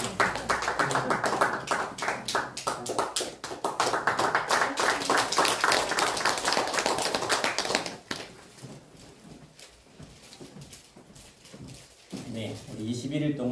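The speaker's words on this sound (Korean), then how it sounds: "우리 전해줄 때 큰 박수 해주시기 바랍니다." Congregation clapping at a Sunday church service in Korea as gifts of oil are handed out, a loud sustained round of applause that fades after about eight seconds into quieter rustling and movement.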